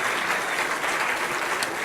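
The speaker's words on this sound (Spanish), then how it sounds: "Fuerte los aplausos al que vive por siempre." A church congregation applauds, with dense, steady clapping that fills the space loudly for a couple of seconds, no voices rising above it.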